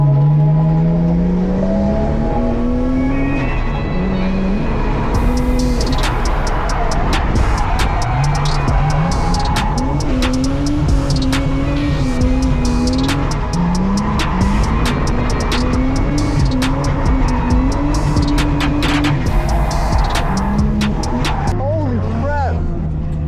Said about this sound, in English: Will decided to take me on a few laps in his own car.